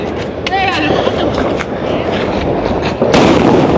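Sharp firecracker pops and bangs, set off by children, burst out at intervals nearby on a Chennai street while people talk over the noisy background.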